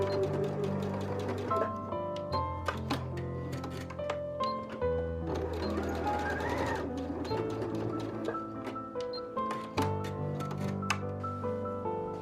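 A sewing machine runs in short, quick bursts while back stitching bow ties onto the side seams of pants, with steady background music throughout.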